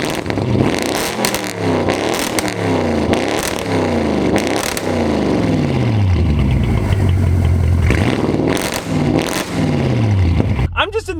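A salvaged 800 HP Audi RS7 fitted with an ARMYTRIX exhaust and race downpipe revs hard and loud close by, with a string of sharp throttle blips and falling pitch sweeps, then a sustained drone before a final rise.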